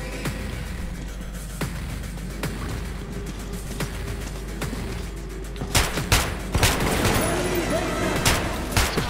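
Gunfire in the video game Metro 2033 Redux, with scattered single shots early, then a louder, denser burst of several close shots near the end, over a low ambient rumble with some speech-like sound mixed in.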